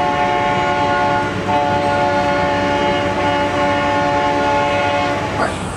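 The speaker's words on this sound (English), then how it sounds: "We are about to board the world's first ever cog railway." The Mount Washington Cog Railway train gives a loud, continuous mechanical drone with a steady tonal whine, heard up close from on board as it runs on the tracks.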